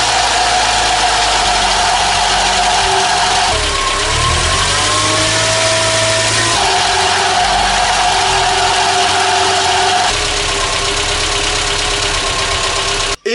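A car engine idles and revs nearby, its steady drone carrying a faint hissing whoosh from behind caused by a faulty seal, with no talking.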